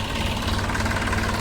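A tractor engine runs close by with a loud, steady low rumble and a fast rhythmic chug, unbroken through the short stretch.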